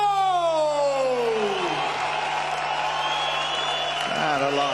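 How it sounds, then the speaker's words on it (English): A boxing crowd cheers and applauds for a boxer's ring entrance with a steady, loud roar of many voices that is present throughout, with a descending tone and a voice heard early on. "And at last, a bit of a cheer."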